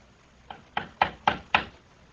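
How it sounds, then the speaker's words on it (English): Five sharp knocks on a door in a steady rhythm, fairly close and clear with nothing else sounding, part of an old radio drama. "Someone's at the door, Rosa."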